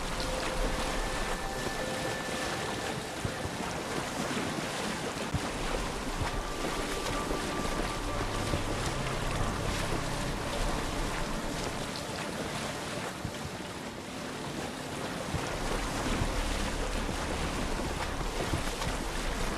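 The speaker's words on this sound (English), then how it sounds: "I don't think this boat can take those waves." A boat ploughs through rough ocean waves in Assassin's Creed Odyssey, a continuous loud wash of surf and rushing wind that swells and dips throughout, with no talking.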